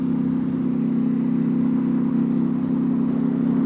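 A modded 2025 Ducati Panigale V4 engine runs with a steady, even drone that holds at a constant pitch close by, with no speech over it.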